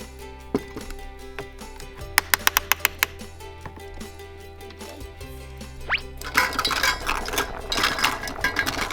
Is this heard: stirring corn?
yes